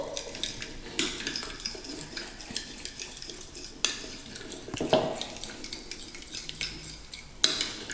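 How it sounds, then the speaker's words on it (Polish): Cutlery stirring a ketchup mixture in a bowl for a football-themed sausage dish, producing continuous close scraping and clinking of metal against the dish with a few sharper taps, and no talking. "wyciskamy ketchup i słuchajcie, mieszamy to wszystko"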